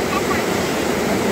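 River water rushes steadily at the Alaknanda and Mandakini confluence at Rudraprayag, a loud, dense, continuous roar filling the brief moment without pause.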